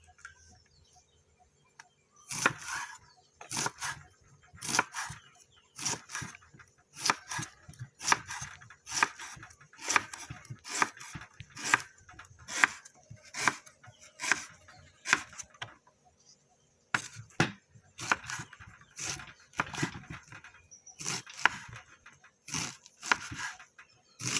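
A knife chops banana blossom repeatedly against a cutting board, quick irregular taps in bursts with brief pauses, close and fairly crisp.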